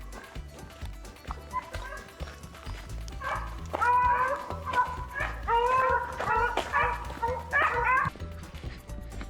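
Hunting dogs bark and yip excitedly while running a hare during hunting season, a chorus of overlapping high, eager cries rising in the middle, with rustling movement and some human voice underneath.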